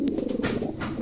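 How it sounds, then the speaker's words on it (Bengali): A Bokhara pigeon gives a short, close, throaty coo, a low warbling call heard alone. "এটা কিন্তু চমৎকার একটা কবুতর"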